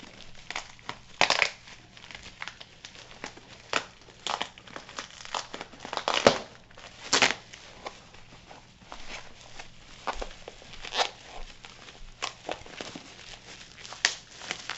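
Crinkling and crushing of a heavily taped-up package being torn open, irregular bursts of ripping and crumpling packaging up close, with no talking.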